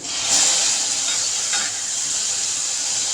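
Onion, green chili and tomato sauté in a hot pan for an egg chapati filling, giving a loud, steady sizzling hiss with brief stirring scrapes close by.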